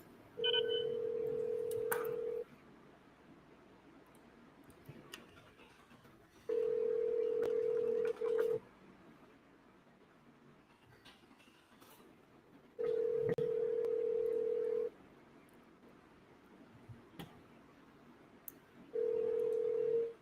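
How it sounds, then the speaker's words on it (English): A telephone rings in regular bursts, four long electronic rings separated by pauses, steady and fairly clear against a quiet background. "Can you hear the ringing?"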